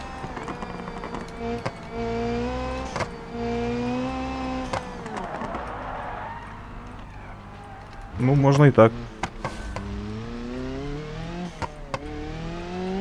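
A car in the driving game BeamNG.drive drones and revs steadily for the whole stretch, with a louder burst of engine near the end, while someone talks over it.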